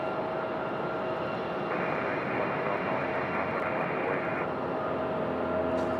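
An airliner taxis toward its gate at Raleigh Durham airport, engines producing a steady droning rumble with a tonal whine that swells briefly mid-stretch, heard alone at moderate distance.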